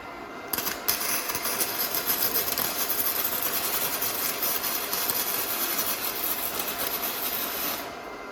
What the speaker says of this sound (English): Beautiful weld. As you can see, penetrated that 1/4 inch steel quite easily.